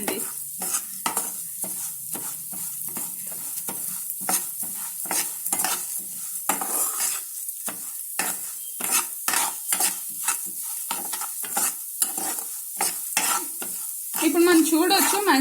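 Frying in a pan while making sakkara pongal, with continuous sizzle and rapid, repeated spatula scrapes and stirs close by, louder near the end, with no voices.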